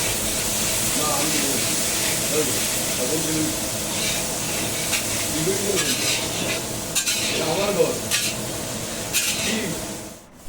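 Carrots and beans being stir-fried in a wok over cumin, bay leaf and dried red chilli tempering, a steady close sizzle with repeated scraping stirs throughout, under background music.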